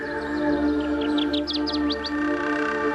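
A Kirtland's warbler in jack pine country sings a quick series of bright, rising chirps in the middle of the clip, set against a steady musical drone.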